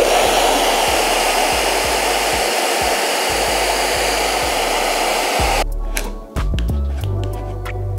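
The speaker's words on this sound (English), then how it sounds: "I'm going to add a little bit of heat to it" A heat gun blows hot air onto carbon fiber vinyl wrap on a car interior, a loud steady roar that cuts off partway through, followed by faint handling noises and quieter background.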